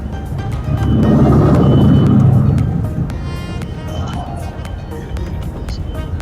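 Vehicle traffic on a road in Longyearbyen, Svalbard, with a car passing close by, swelling to a loud rumble and then fading, followed by quieter road noise and some faint talking.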